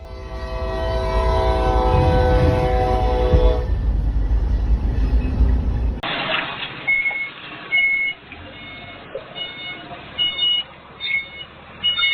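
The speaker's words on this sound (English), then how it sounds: "Here's another truck that thought it could win against a train." Train sounding its horn as it bears down on a truck at a crossing: a loud, sustained horn blast over a heavy rumble, then an abrupt cut to a quieter scene with scattered clanks and thuds.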